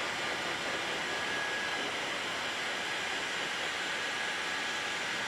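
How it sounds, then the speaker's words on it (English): A heat gun on a medium setting warms paint on an MG ZS car door, giving a constant, even blowing hiss that continues without a break, heard close up. "I just basically get the old heat gun, put it on sort of medium setting, 5-6, get some heat going"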